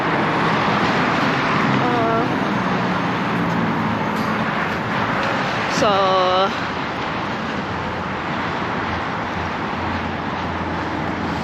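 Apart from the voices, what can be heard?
car traffic passing by outdoors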